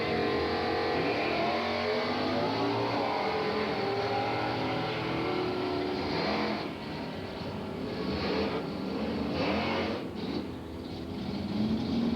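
Drag racing car, a small-block 1969 Camaro at Englishtown, idling and rocking into the staging beams, a continuous rough engine rumble with brief throttle blips and a distant crowd wash.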